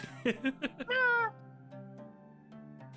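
A person imitates a cat meowing, giving a few short mewing calls followed by one longer drawn-out meow, close and clear, then trailing off into quiet room noise.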